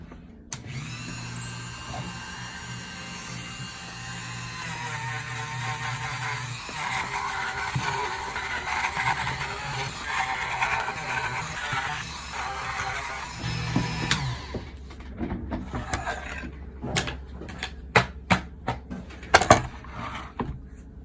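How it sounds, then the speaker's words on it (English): A Dremel rotary tool spins a buffing wheel across carved wooden letters, a steady high whine that runs for about fourteen seconds. It then winds down, and a series of sharp clicks and knocks follows. "We're going to do one final pass with the buffing wheel"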